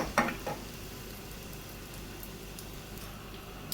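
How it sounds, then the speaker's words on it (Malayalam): A spoon scrapes and stirs brown bread upma in a pan: a couple of knocks at the start, then a soft, even sizzle with faint clinks, close and quiet. "അപ്പോൾ ഇതെല്ലാം കൂടെ ഒന്ന് ഇളക്കി മിക്സ് ചെയ്തെടുക്കാം"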